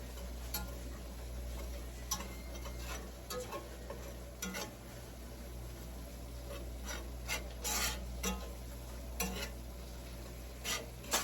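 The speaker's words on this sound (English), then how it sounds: "You want this flour to cook for a good minute or two. You don't want no flour taste. All right, just keep stirring." A spoon scraping and stirring a flour and butter roux in a pan, soft rasping strokes with occasional clicks against the metal over a low steady hum, quiet and close, with no talk.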